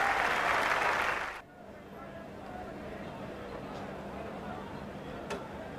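Applause rises from a cricket crowd standing for a batsman's fifty at a 1994-95 Sheffield Shield Final between Queensland and South Australia. The dense clapping stops abruptly after about a second, and a commentator talks over faint ground ambience.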